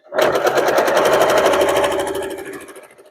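A sewing machine stitches patriotic flag quilt blocks in one steady, close run of rapid rhythmic needle clatter, slowing and fading toward the end.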